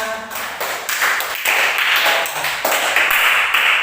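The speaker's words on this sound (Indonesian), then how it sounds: "Tepuk tangan semuanya." Students in a secondary school science classroom clap their hands in short uneven bursts, loud and close, with the rhythm breaking off and restarting several times.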